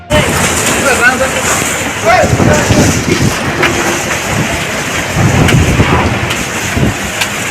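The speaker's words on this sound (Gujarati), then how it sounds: "તોફાની પવન સાથે ધોધમાર વરસાદ પડ્યો છે" Loud, dense rain roars with gusting stormy wind buffeting the microphone in Tankara, Morbi district, Gujarat, with occasional deep rumbles underneath.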